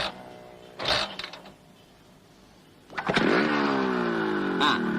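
A motorcycle engine cranks briefly, falls quiet, then catches and starts up into a steady idling rumble close by.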